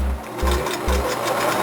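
A Singer 6215 sewing machine stitches at a steady pace, its motor whirring close by with a rapid mechanical chatter and a low rhythmic thump as the needle cycles.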